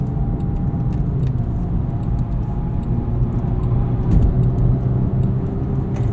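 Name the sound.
2021 Jaguar XF P300 driving up an entrance ramp in dynamic mode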